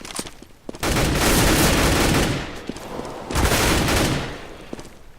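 Gunfire in Counter-Strike: Global Offensive, loud rapid bursts of automatic fire in two long strings separated by a brief lull, close and dominant with no talk.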